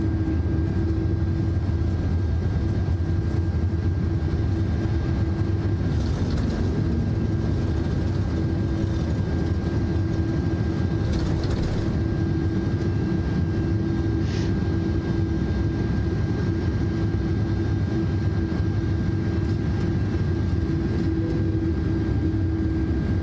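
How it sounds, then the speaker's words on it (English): A heavy airliner in Microsoft Flight Simulator 2024 lands with its thrust reversers deployed, making a loud, continuous, low engine roar with a steady whine on top, heard alone throughout. "Reversers out."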